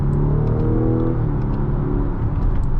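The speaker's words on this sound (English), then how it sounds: "You can also paddle shift this thing manually as well through the 8 gears, which it sounds quite good" A 2025 Mazda CX-70 PHEV with a naturally aspirated four-cylinder and eight-speed gearbox is paddle-shifted through its gears from inside the cabin, the engine note rising, dropping at a shift, then climbing again as a loud, steady rumble.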